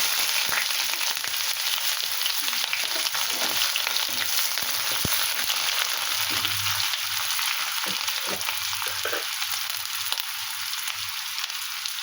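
Dried red chillies and onion fry in a pan for a Bengali banana-flower and prawn ghonto, giving a steady, close, even hiss of sizzling oil with faint stirring clicks throughout, no voices.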